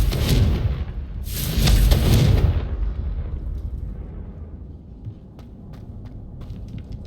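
Two heavy booming blasts from the Confringo explosion spell in the video game Hogwarts Legacy, the second longer and louder, then fading into a low rumbling tail with faint scattered clicks.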